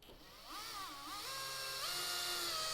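A Festool cordless screwdriver drives a Torx screw into a terrace decking board, its motor whining steadily and rising in pitch, with a faint ratcheting tick, close and continuous.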